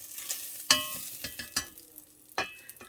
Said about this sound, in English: And then I'm going to saute these vegetables.